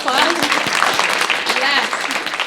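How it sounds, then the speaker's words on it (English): Audience applause at an SFMTA Black History Month celebration, a steady patter of many hands clapping with a few voices mixed in, holding fairly loud for a couple of seconds. "Can you give yourselves a round of applause?"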